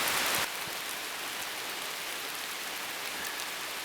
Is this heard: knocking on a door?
no